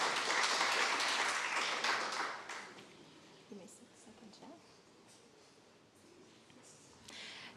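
An audience at a peace, security and justice symposium in Musanze, Rwanda applauds a panelist coming forward; loud clapping fills the first few seconds, then fades into quieter room sounds and murmured talk.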